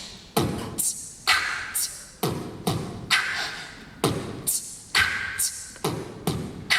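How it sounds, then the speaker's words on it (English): Rhythmic beatboxing played on a flute, with breathy kicks, snares and hissy hi-hat bursts in a steady groove, flute-like breath sounds, close and punchy. "teaching myself how to beatbox and then applying it to the flute."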